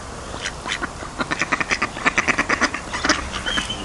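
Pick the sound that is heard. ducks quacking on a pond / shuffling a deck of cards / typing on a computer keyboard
ducks quacking on a pond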